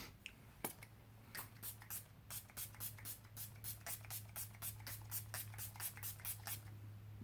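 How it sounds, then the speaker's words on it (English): A Pixie Skin Treats Glow Mist facial spray gives a quick series of short, fine hissing spritzes in an even rhythm, close and fairly soft over a faint background hum. "This is the Pixie Skin Treats Glow Mist Shannon."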